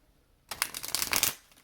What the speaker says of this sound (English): Let's go ahead and shuffle up the rest of these cards